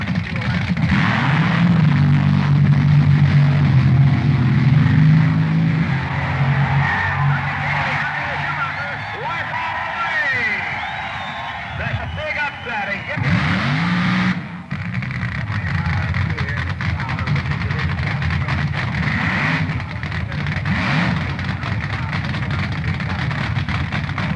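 Powerful drag racing cars roar and rumble loudly down the strip at the 1969 NHRA Nationals, fading and swelling as they pass, with a voice talking over the noise.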